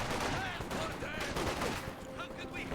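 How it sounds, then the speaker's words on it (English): MG34 machine gun fire in a Company of Heroes 2 battle, a dense, continuous stretch of bursts and explosions mixed with battlefield noise, with a voice talking over it. "looks like these intersections do get suppressed by the MG34"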